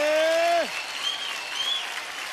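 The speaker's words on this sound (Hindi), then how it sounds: "लड़कियों के लिए जोरदार तालियां सबसे पहले।" Audience applause for the girls at a dance event, beginning with a loud sustained shouted vocal note that drops away, then a quieter, diffuse patter of clapping that continues to the end.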